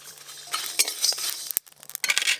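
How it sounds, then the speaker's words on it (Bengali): Spices dry-roasting in a pan while being stirred, with clinking and scraping of a spoon against metal and a faint sizzle, close up and without talk. "মশলা ভাজার গন্ধ পাচ্ছ?"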